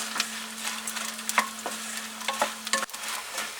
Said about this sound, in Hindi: गोंद को फ्राई करने में भी थोड़े ज़्यादा घी की ज़रूरत होती है।